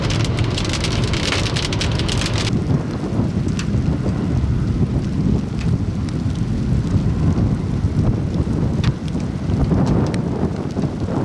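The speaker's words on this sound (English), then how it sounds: "Jake captured this view of the June Perryton tornado." Heavy rain pounds surfaces during a tornado-producing thunderstorm near Perryton, Texas, with steady loud hiss, wind buffeting the microphone and thunder rumbling underneath throughout.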